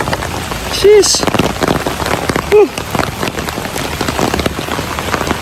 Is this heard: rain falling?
yes